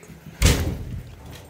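A door slams with a single loud, close thump in an abandoned school building near a fire escape, followed by a short echoing tail in the empty space.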